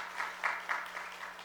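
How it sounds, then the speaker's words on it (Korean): A church congregation applauds to welcome a newly registered member, with a short, moderately quiet burst of clapping that swells in a few pulses and has no talking over it. "큰 박수로 환영합니다"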